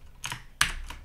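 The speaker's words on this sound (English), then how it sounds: "I do it by keyboard shortcut on Chrome." Keyboard shortcut pressed on a computer keyboard to open Chrome developer tools: two quick clusters of close, crisp key clicks, the second sharper and louder, with no talking.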